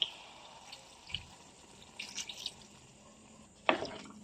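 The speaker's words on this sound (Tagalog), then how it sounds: "Lagyan natin ng tubig." Faint water splashes and trickles into a cooking pot of vegetables in short bursts, with one louder pour near the end, in an otherwise quiet room.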